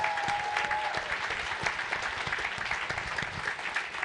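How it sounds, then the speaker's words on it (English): Loud, continuous applause fills a hall at the Scope Awards ceremony as the audience cheers an award winner, the clapping steady and close throughout. "massive round of applause for our winner, Toby."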